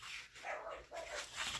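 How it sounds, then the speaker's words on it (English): Several dogs bark in the background indoors, a handful of muffled barks and yips at moderate distance, with no speech over them. "my dogs are barking in the background."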